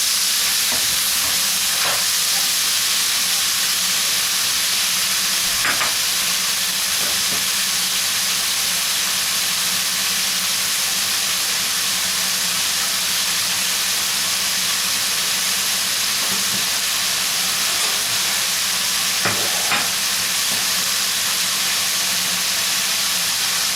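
Onion slices frying in hot fat for pizza sandwiches, a steady loud sizzle and hiss running throughout with occasional sharp crackles and spatters.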